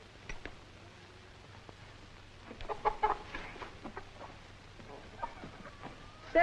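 Farmyard chickens, a flock of about ten, cluck in soft, scattered bursts at moderate distance over a quiet background hum, with a sharper squawk right at the end.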